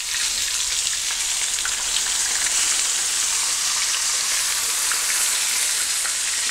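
Crucian carp fries in a pan on a gas stove turned up to maximum, giving a steady, loud, close sizzle and crackle that holds unbroken throughout with no voices.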